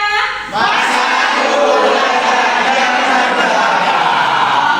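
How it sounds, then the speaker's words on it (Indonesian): Students in a history class chanting a group cheer in unison, loud and continuous after a brief spoken cue at the start, filling the room with sustained voices. "Ibu mau dengar ini yel-yel sejarah kita pada pagi hari ini"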